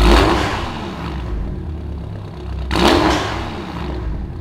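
BMW M5 with Stage 3 ECU tune and downpipes, revving in sport mode with valves closed: two loud engine revs, the second giving a small pop, heard close and alone.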